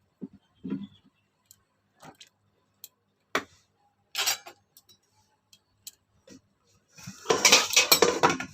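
A metal lid set on a cooking pot of boiling water with jackfruit, heard as sharp separate clinks and knocks spaced apart, followed by a louder burst of rattling clatter near the end.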